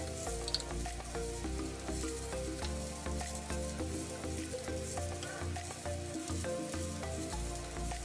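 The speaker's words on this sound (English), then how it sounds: "Now you can add the red chili powder. Give a nice mix." Red chili powder is stirred into a sizzling Manipuri catfish curry with bamboo shoots in a pan, a steady frying hiss with repeated stirring scrapes, alone with no talk.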